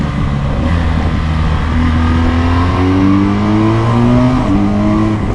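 A BMW R1200GS motorcycle accelerates hard at full throttle, its boxer engine note rising steadily in pitch through the gears, loud and close, with constant wind roar underneath.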